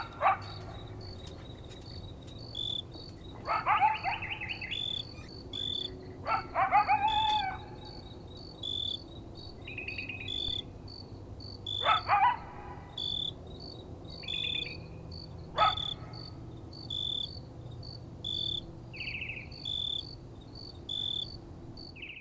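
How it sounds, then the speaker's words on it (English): Crickets chirp steadily throughout an outdoor night recording, with repeated rising and falling coyote calls breaking in at intervals, fairly faint and distant, with no talking. "Okay, that was quick coyotes and crickets today."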